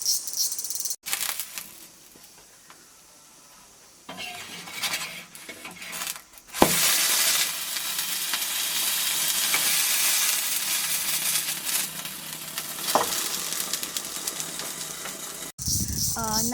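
Fish wrapped in banana leaves sizzling and charring in a hot pan for a Northeastern-style recipe, a steady close hiss with occasional clinks and crackles running through most of the stretch after a quieter start.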